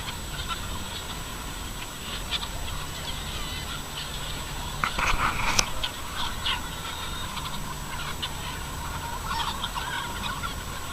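A large flock of about 5,000 chickens on a farm fills the air with dense overlapping clucks and squawks, loud and continuous, with a few sharper calls rising above the din.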